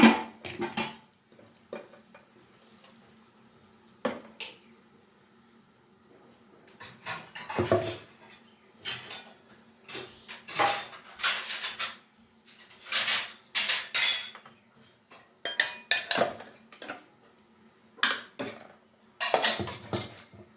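A spoon clinks and scrapes against a metal pot as ground masala is stirred into avarekalu huli saru, a Karnataka lentil-bean curry, in irregular clattering bursts with quiet gaps between, fairly close and alone.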